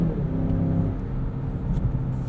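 A 2020 Mazda CX-9 Signature AWD with a 2.5-liter turbo engine accelerates through gear shifts, giving a steady, close, droning engine hum with a low rumble and slight pitch changes throughout.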